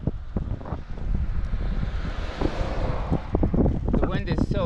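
Cold gusty wind on a Slovenian cycling route, buffeting the microphone in loud, uneven surges, with some brief voice-like sounds mixed into the steady roar.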